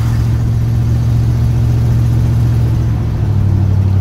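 A 1982 Checker Marathon's engine drones steadily while driving, a loud, close, continuous low hum that holds level for the whole stretch with no talk.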